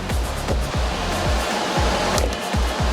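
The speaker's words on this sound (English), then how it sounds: "I use this CRC non-chlorinated parts cleaner, and I'd scrub it in, spray it in there" CRC non-chlorinated parts cleaner hisses out of an aerosol can onto a Honda 350X carburetor in a continuous close, loud spray with slight pulsing, with no talk over it.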